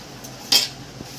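A single clink of a spoon against a pan while onion sabzi is stirred, a short metallic tap with a faint second knock, no talk.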